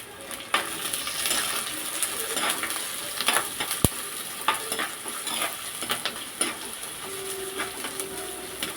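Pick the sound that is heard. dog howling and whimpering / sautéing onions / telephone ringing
sautéing onions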